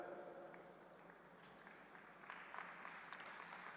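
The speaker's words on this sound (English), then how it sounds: "Please, a round of applause for them." Audience applause at a university Founder's Day ceremony, a steady faint wash of clapping from a crowd, continuing evenly for several seconds and swelling slightly toward the end.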